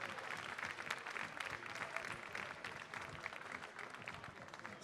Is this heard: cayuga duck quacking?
no